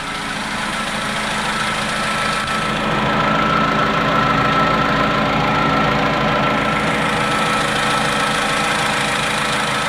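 A Vauxhall Corsa D 1.2 petrol engine idles just after an oil service at home, a steady, close, even hum with a low, faint ticking texture that continues unchanged throughout.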